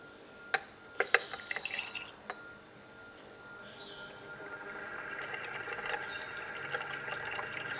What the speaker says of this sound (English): And now we'll add the potassium hydroxide flakes.